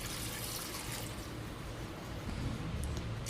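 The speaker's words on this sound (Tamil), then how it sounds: "தண்ணி ஊற்றிக்கிறேன்," Water is poured into a cooking pot in a steady, full-bodied splashing stream that runs continuously and close by without a break.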